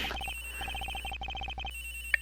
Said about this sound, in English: Agent Hicks' phone! It's ringing from somewhere